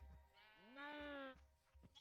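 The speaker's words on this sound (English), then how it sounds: "So we've got some sheep." A sheep in the Minecraft video game gives a single drawn-out bleat with a rising, wavering pitch, quiet and close, set among soft low thumps.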